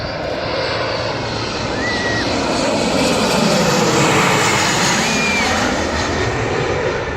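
An airplane lands at Birmingham Airport on an angled, wind-affected approach, its steady, loud engine roar filling the whole stretch and holding near before easing slightly toward the end.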